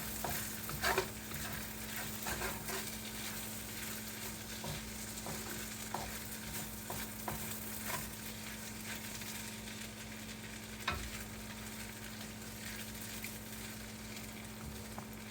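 Food sizzles steadily in a hot wok with repeated scraping and tossing from a spatula, a continuous close frying hiss throughout.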